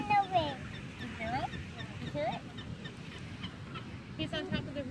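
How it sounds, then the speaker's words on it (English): Gulls calling over a windy Maine coastal spot, several rising squawks and cries repeating through the clip over steady wind noise and murmuring voices. "Lots of seagulls."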